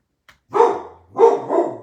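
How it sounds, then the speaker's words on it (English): A pet dog lets out a few sharp, close barks in a quiet room, a faint yip first and then two loud bursts with a brief pause between them, with no voices over them. "Ignore my dog."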